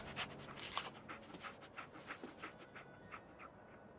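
Dogmeat, the dog companion in Fallout 4, pants quietly in a steady rhythm of short, breathy huffs, close by but soft, with no voices over it.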